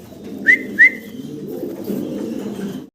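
A pair of pigeons gives a low, steady cooing rumble, preceded by two quick, sharp whistled chirps close by, with no talking.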